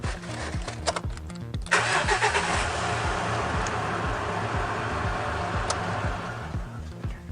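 A Mitsubishi Triton engine cranks with a rhythmic starter chug, catches and settles into a steady idle after a solenoid repair, close by with no talk.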